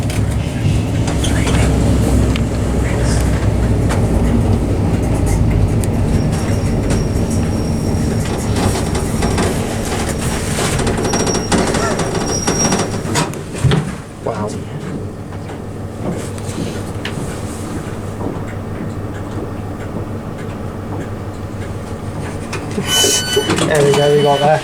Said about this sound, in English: Sound of a HST passing us as well as we come in.